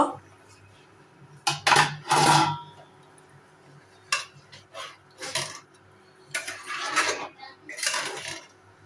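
Metal pot lid lifted and a spoon scraping through chicken biryani in a cooking pot, giving loud clanks and scrapes in several bursts separated by quieter pauses, close by.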